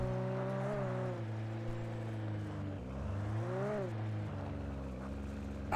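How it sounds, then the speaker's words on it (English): Car engine in the video game Alan Wake Remastered, a steady droning hum with rising and falling pitch as the car accelerates and eases off, continuous and dominant with no talk. "Even the engine does not sound believable."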